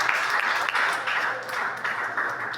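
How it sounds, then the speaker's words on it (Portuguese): Church congregation applauding during a communion service, a steady wash of clapping that fades slightly toward the end. "que podem aplaudir a Jesus"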